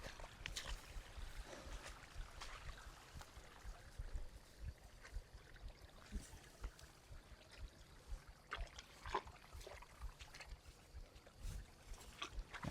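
Water trickles and flows steadily from a spring or small pool at an outdoor rural spot in Laos, a continuous close gurgling with small splashes and no voices.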